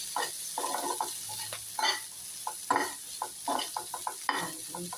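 A spoon stirs boiled eggs and salt together in a bowl, giving a run of short, close scraping and tapping strokes in uneven bursts with quiet gaps between them.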